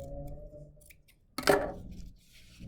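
Regular scissors cut through wired ribbon for a spring door decoration, making a single sharp, crisp snip midway through an otherwise quiet stretch.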